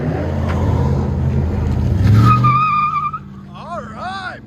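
A 2000 GMC Sierra pickup with a 5.3L V8 and Flowmaster Flow FX dual exhaust revving hard, a loud close rumble with tire squeal, followed by a whistle-like whine and fading engine.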